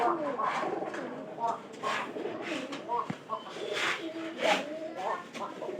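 A pigeon in a loft coos in repeated soft, throaty phrases, close and fairly loud, with a sharp click partway through and someone talking over it.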